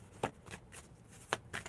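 Playing cards are shuffled close up in a few quick riffling bursts with short gaps between them, quiet and with no talk.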